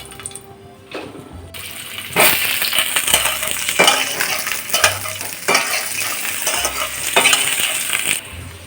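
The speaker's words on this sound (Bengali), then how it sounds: "ফোড়নটা তৈরি হয়ে গেছে আলুগুলো ভেজে নেবো" Potatoes frying in oil tempered with cumin for a vegetable biryani, a loud crackling sizzle with repeated stirring scrapes and clanks of a utensil against the pan.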